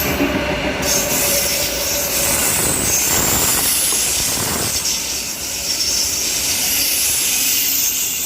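A Sydney suburban train rolls through Kogarah station with a loud, steady rumble of wheels on rail, brief squeals, hiss and a few clicks, continuous and close throughout.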